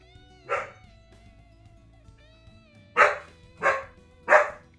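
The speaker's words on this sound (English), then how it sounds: "And now my dog is barking." A dog barks four times nearby, one sharp bark followed by a pause and then three quick barks in a row.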